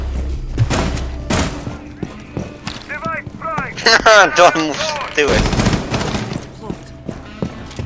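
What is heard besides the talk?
gunshots in a video game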